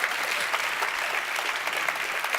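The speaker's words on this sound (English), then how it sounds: "Let's clap." Audience applause at a New Orleans fellowship event, a steady dense wash of many hands clapping at moderate loudness, continuous throughout with no talk over it.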